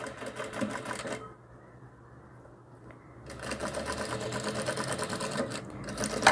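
A sewing machine stitches fabric for a cloth doll's dress, a fast, loud, close mechanical rattle that stops for about two seconds and then resumes for a backstitch.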